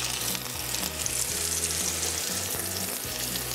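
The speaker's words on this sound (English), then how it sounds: "you want to hear a little sizzle" Pork tenderloin frying in hot oil in a pan, a steady, gentle sizzle with soft crackling that holds at an even level throughout, with no voices.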